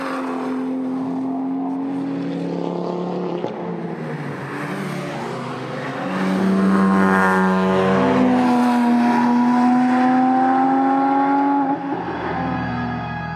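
Volkswagen Golf GTI Performance on the Nürburgring Nordschleife, its engine rising steadily in pitch through the gears with brief drops at shifts, a clear sustained drone heard from inside the car.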